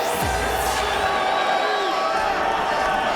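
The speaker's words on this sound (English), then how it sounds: "Oh, this Tampa crowd is loving it." A Tampa football crowd cheers at a Lingerie Football League game, a steady dense roar with whoops, loud and continuous.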